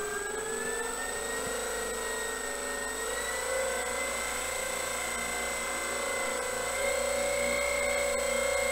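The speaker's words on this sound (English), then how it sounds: "I'm going to take the throttle lock off and advance the throttle just a little bit" An RC model's electric motor whines steadily as the throttle is advanced slightly, a constant high-pitched tone with sustained hum that rises a little in pitch toward the end, alone without talk.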